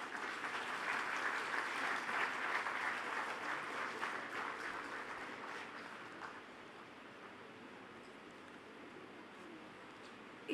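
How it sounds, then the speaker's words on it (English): Audience applause at a university convocation ceremony, a broad wash of steady clapping from a large hall, strong at first and then tapering gradually to a softer patter over about ten seconds. "Round of applause, please."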